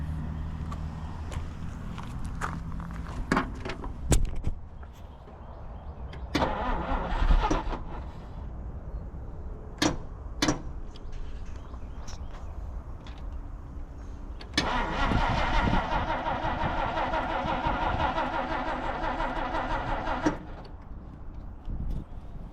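A 1950 Dodge Meadowbrook engine cranks in several uneven bursts with pauses and clunks in between, then catches and runs roughly for several seconds before dropping back.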